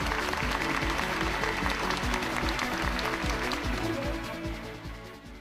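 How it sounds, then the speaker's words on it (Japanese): Fans at a film premiere screening in Japan applaud steadily, a dense clatter of many hands clapping throughout the hall, gradually thinning and fading toward the end. "上映を待ち焦がれていたファンの拍手が会場に響いた。"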